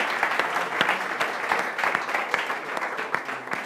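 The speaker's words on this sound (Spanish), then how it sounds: "Dale un fuerte aplauso al Señor." A church congregation applauds during a Sunday worship service, a steady dense wash of many hands clapping at an even level throughout, with a faint voice over it.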